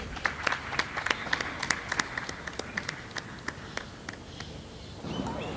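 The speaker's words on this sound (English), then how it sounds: "Please welcome her with a huge round of applause." An audience at a talk about Tibet welcomes a speaker with a round of applause: scattered, fairly sparse handclaps rise and fall over several seconds, then die away into room noise.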